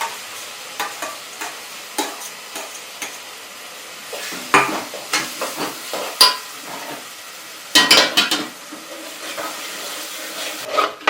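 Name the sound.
onion and green chili tempering frying in pan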